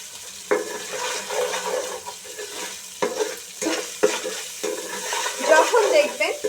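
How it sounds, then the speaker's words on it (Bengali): Ginger garlic paste sizzles in hot oil while a spoon scrapes and stirs it around the pan, with repeated clinks against the metal over continuous frying. "এবার কয়েক সেকেন্ডের জন্য আমি ভেজে নেব, জাস্ট কয়েক সেকেন্ড"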